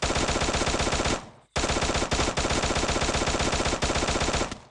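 Loud automatic gunfire in the mobile shooter Free Fire, long rapid bursts of shots close up, broken by a short pause and continuing steadily to the end.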